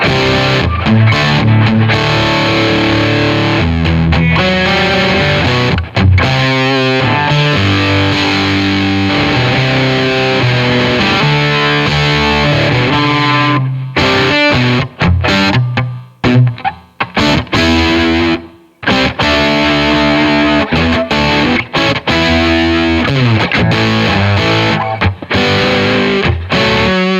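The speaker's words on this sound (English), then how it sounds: "Let's hear the fuzz off just on that tone" Electric guitar played continuously with the Old Blood Noise Endeavors Haunt Fuzz pedal switched off, a full, loud amp tone with sustained chords and brief pauses, no talking.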